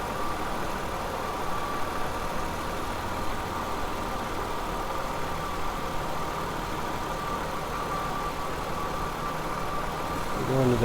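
A Ford Escape engine with a high-idle fault, P1506, runs at a steady, even idle that stays constant and close throughout, with no talking.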